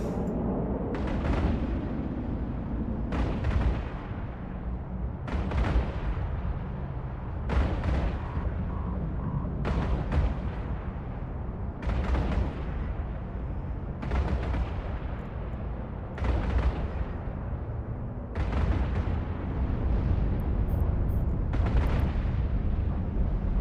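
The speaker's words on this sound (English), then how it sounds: "The turrets really sound nice." Turret fire in the space game EVE, a steady series of heavy booming shots spaced roughly two seconds apart over a constant low rumble, with no talking.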